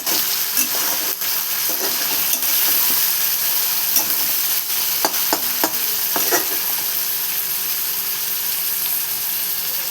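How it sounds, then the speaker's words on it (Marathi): Onion and potato fry and sizzle steadily in a pan for radish bhaji, with a constant hiss and occasional clicks of stirring, close and continuous without any talk. "आणि बघा आपला कांदा बटाटा मस्त ब्राऊन होत आहे."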